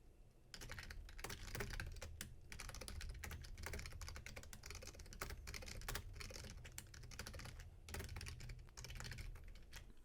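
Rapid keystrokes on a computer keyboard as a short poem is typed, a dense, close clatter of clicks with brief pauses between bursts.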